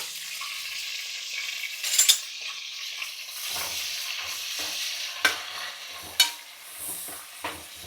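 Green chillies, curry leaves and onions fry in hot oil, a steady sizzle held throughout with a few sharp clinks of a spoon stirring against the pan.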